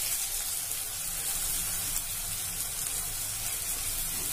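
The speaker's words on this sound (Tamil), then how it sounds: "தக்காளி வதங்கட்டும்." Tomatoes sautéing in a pan for a taro curry, a broad steady hiss of gentle sizzling heard close and unbroken, with no voices.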